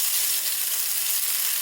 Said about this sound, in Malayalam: പാത്രം ചൂടായാൽ അതിലേക്ക് ഒരു കഷ്ണം ബട്ടർ ഇട്ട് കൊടുക്കാം.